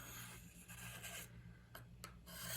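Knife edge drawn across a diamond sharpening plate to dull it gives quiet, rasping strokes, a few short scrapes in a row, faint and close.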